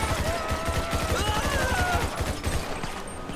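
Bullpup rifle with no attachments firing in GTA 5, a rapid sustained burst of automatic gunfire, loud and close, running the whole time with faint tonal game sounds underneath.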